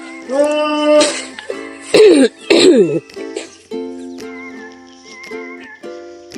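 Two harsh, breathy coughs in quick succession, set against a steady background of tonal music.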